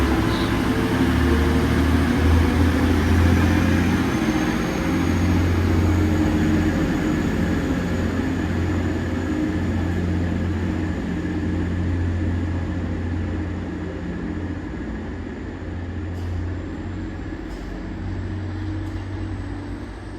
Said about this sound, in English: this train's departing